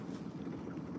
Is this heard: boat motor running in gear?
yes